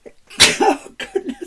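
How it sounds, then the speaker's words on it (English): A single sharp sneeze bursts out at close range, followed by a few short breathy vocal sounds. "Let's get all the coughing and sneezing out of the way."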